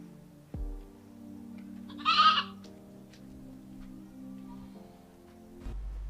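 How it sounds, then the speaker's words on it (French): A goat gives a single short, nasal bleat midway through, fairly close, over a sustained low background tone with soft thuds and no speech. "à qui appartient cette chèvre?"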